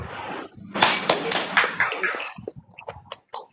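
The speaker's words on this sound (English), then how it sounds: "A big round of applause" Audience applause at a tribute gathering for Dr. Shyama Prasad Mookerjee, starting as a dense burst of clapping that thins into scattered claps and a few sharp taps.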